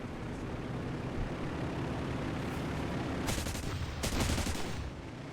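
Aircraft cannons fire in a combat flight video game over a constant engine drone, with several short loud bursts of rapid shots toward the end and no talking.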